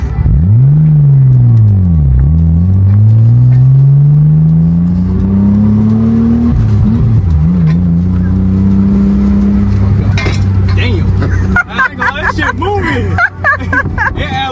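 Car with an aftermarket exhaust revving loudly nearby, the engine note swooping up and down through several rises and drops before settling into a steady rumble, with voices talking over it near the end.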